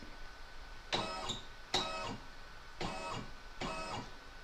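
An embroidery machine advances forty stitches while stitching a shamrock pot holder, giving four short, regular mechanical bursts with quiet gaps between them, close and fairly soft.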